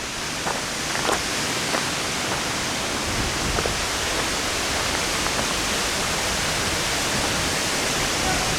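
Masaré waterfall near Lake Alleghe in the Dolomites roars as a steady, broadband rush of falling water that stays even and continuous throughout.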